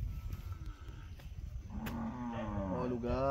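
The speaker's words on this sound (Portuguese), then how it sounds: "O gado tá berrando." Cattle low on a rural Brazilian smallholding after rain, a long, rising moo with clear harmonics swelling in the second half over faint background noise, fairly close and loud.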